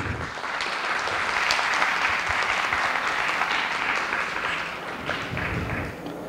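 A seated audience at a classical dance annual day breaks into sustained applause to welcome guests to the stage, a dense, even wash of clapping that holds for several seconds before easing slightly.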